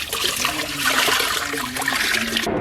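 Water drains steadily from a Costway portable washing machine, a continuous close splashing trickle with a faint low hum underneath and no talking.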